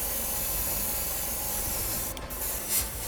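An airbrush sprays white paint onto a miniature, producing a steady close hiss of compressed air that breaks off briefly near the end and then resumes.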